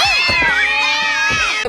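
A cat meows loudly and close, a long drawn-out cry with wavering pitch that fills the whole moment without any talk over it.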